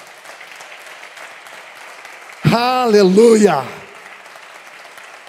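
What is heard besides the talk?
church congregation applauding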